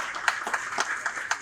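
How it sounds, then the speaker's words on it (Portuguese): A brief round of applause at a Brazilian political event, with scattered hand claps from an audience, fairly faint and distant, lasting only a moment. "uma salva de palmas, Maurício Eugênio"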